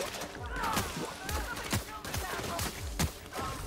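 Rapid bursts of gunfire from guns in The Outer Worlds, sharp repeated cracks over a steady game backdrop, with players talking over the shooting.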